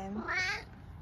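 A cat soaked from the rain gives one short, loud, rising-and-falling meow, close to the listener and heard alone.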